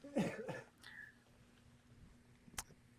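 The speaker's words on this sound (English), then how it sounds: "So I'm still getting over that cough." A short cough near the start, followed by quiet room tone and a faint click later on.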